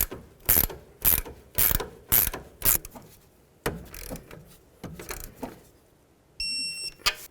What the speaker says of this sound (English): We'll also use a ratchet wrench